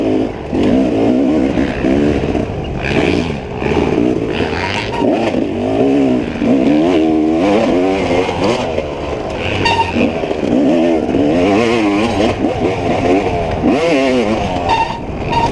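Dirt bike engines roar and rev at a cross-country motorcycle race on a Carolina course. A loud, constant, wavering snarl rises and falls with the throttle for the whole stretch, close and continuous.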